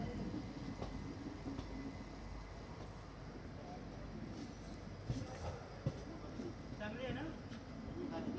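Nandigram Express passenger train pulling into platform 1 at Mudkhed Junction, a low rolling rumble with occasional clanks and squeals, moderately distant, with people talking nearby.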